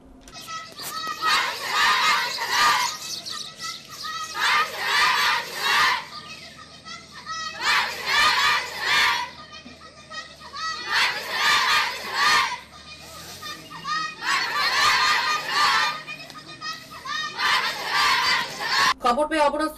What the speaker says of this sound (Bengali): পথ অবরোধকালে ছাত্রীরা হোস্টেল সুপার পুষ্পবাণী দেববর্মার বদলির প্রতিবাদে স্লোগান দিতে থাকে।